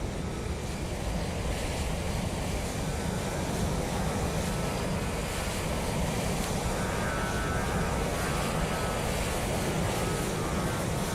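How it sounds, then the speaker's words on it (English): An aircraft taxis at London Heathrow in Microsoft Flight Simulator 2020, heard as a steady, dense roar of broad rushing noise that stays constant and loud throughout with no clear changes or voices. "Something taxiing in the background there."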